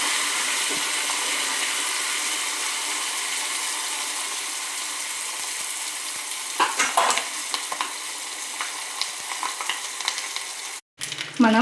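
Mustard seeds, cumin and curry leaves sizzle in hot oil for a chutney tempering, a steady close hiss with scattered pops and crackles growing busier toward the end, then a brief clatter.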